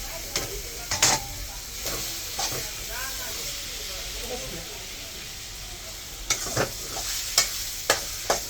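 Taro leaves with turmeric sizzling in a hot pan, with repeated clattering stirs of a spatula scattered across the clip over a steady frying hiss.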